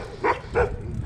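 Dogs bark near a creek, two loud close barks in quick succession followed by quieter background noise, with no talk over them.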